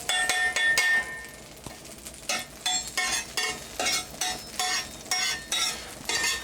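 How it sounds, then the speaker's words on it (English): A spatula scrapes butter from a butter dish, giving a series of short, rhythmic scratchy strokes with light clinks, fairly quiet and with no talking. "It's really hard to get the spatula on the butter dish."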